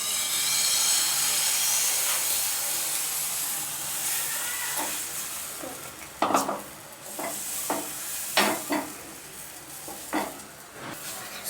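Beaten egg mixture poured onto a hot tawa for an omelette, giving a steady hissing sizzle at first, then settling with a few sharp spatters and clinks near the end.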